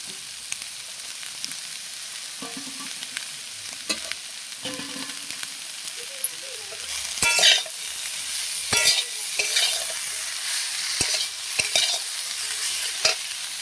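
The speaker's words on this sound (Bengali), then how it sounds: "দিয়ে দেবো উচ্ছে আর আলু, এই সরু করে আলুটা কুচে দিলে ভালো লাগে" Bitter gourd and thinly cut potato frying in a pan give a steady, loud sizzle, broken by sharp scrapes and clatters of stirring in the second half, with no talk.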